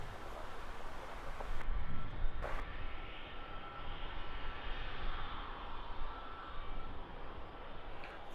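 A Wizz Air jet airliner departs Luton Airport, its engines making a broad, steady roar at a distance that swells and then holds as a long rumbling wash, with no voices.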